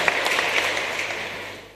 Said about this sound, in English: We'd appreciate giving him a big clap.